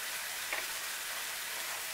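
Sliced onions sizzle steadily on a portable propane or butane gas stove, a soft, even hiss with one small pop near the start and no talk.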